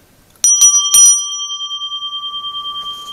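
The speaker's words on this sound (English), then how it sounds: "I picked up a couple of bells." A small bicycle-style bell, bought as a bargain, rings with a couple of quick bright strikes. Its clear metallic tone then hangs and slowly decays in a gently pulsing ring.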